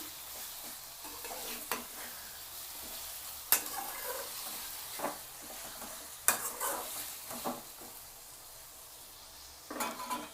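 Chicken frying village style in a pan with onion and tomato, a soft continuous sizzle punctuated by repeated scraping stir strokes and clinks of the spoon against the pan, close and fairly quiet, no talk.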